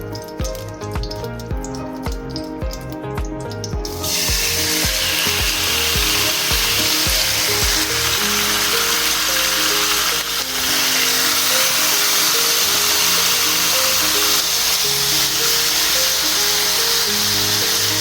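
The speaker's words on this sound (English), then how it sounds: "On the same pan, we're going to be putting in our beef that we marinated." Marinated beef dropped into a hot pan for Filipino bistek: after a few seconds of clattering handling, a loud, steady sizzle erupts and holds strong, close and continuous.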